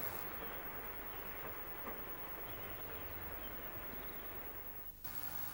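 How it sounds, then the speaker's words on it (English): A Class 37 diesel locomotive, 37672, hauls empty CDA china clay wagons on a Cornish branch line toward Lostwithiel, a steady distant rumble and rolling wagon noise that holds level, then cuts off near the end. "37672 powers back to Lostwithiel with empty CDAs"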